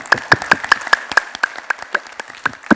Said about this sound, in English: let's do some clapping exercise